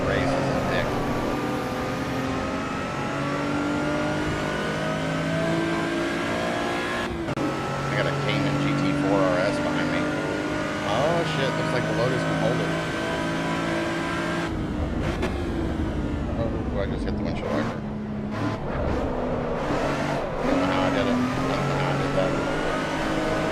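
A BMW race car in a driving video game, its engine droning and revving steadily at close range with gear shifts and surges, while a player talks over it.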